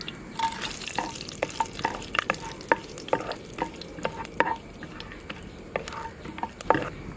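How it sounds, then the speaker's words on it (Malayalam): Whole spices, cinnamon, cloves, peppercorns and fennel, fry in oil in a Kerala kitchen, a close crackling sizzle with frequent quick stirring clinks and scrapes spread across the whole stretch. "കുറച്ച് കരുവാപ്പട്ട്, കുറച്ച് ഗ്രാമ്പു, 5-6 കുരുമുളക്, 3-4 പെരുംജീരകം, ഇത്ര നമുക്ക് ഇട്ട് കൊടുക്കാം."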